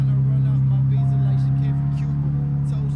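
A Nissan 370Z with a newly fitted Stillen intake idles with a steady low engine drone, and a voice talks faintly over it.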